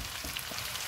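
Chicken masala pulao fries in a pan as tomatoes go in, giving a soft, brief sizzle at low volume with no talk.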